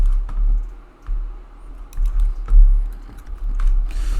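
Fingers type on a computer keyboard in close, irregular bursts of crisp keystrokes, with short pauses and a few louder clacks.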